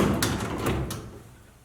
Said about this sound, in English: Now we're just going to simply lift up the door and set it aside.